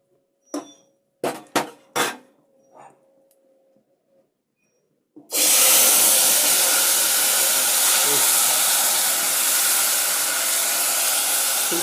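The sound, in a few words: mutton sizzling in hot oil with whole spices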